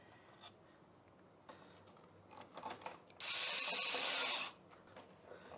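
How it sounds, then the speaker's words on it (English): An electric screwdriver backs a Phillips screw out of a Philips TV, with a few clicks and ratcheting sounds, then one steady whirring burst of about a second, close and fairly quiet. "Philips screwdriver with Philips screw on a Philips TV"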